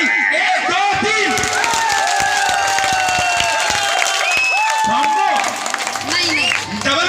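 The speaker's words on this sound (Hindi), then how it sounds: "और जोरदार ताली 1 2 3" Loud, continuous applause and cheering from a large crowd at a Rajasthani dance show, with overlapping voices and shouts mixed into the dense clapping throughout.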